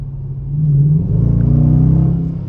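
A Dodge Charger fitted with a Pedal Commander throttle controller accelerates, a steady deep engine rumble that swells and holds loud and close for a couple of seconds, with no talking.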